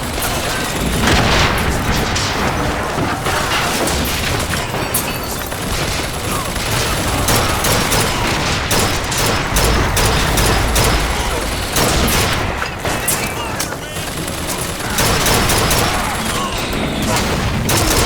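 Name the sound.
rocket explosions and gunfire in video game Bioshock Infinite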